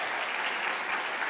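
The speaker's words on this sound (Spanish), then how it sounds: "Vamos a dar un aplauso a todos los que se graduaron" A church congregation applauds graduates with steady, dense clapping that fills the whole short moment at an even level.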